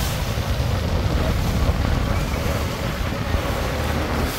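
A boat running at full power during a Gauri immersion procession at Versova Koliwada, steady engine roar mixed with rushing water and wind buffeting close to the microphone, loud and continuous throughout.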